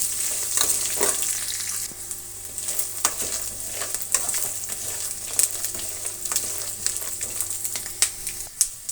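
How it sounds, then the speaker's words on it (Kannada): Curry leaves, onion and garlic frying in a pan for puliyogare gojju, a steady loud sizzle with crackling pops and occasional stirring scrapes throughout, no voices. "ಇದರ ಜೊತೆಗೆ ಕರಿಬೇವಿನ ಸೊಪ್ಪನ್ನು ಕೂಡ ನಾನು ಸ್ವಲ್ಪ ಸೇರಿಸ್ತಾ ಇದ್ದೀನಿ. ಅದು ಕೂಡ ಫ್ರೈ ಆಗಲಿ."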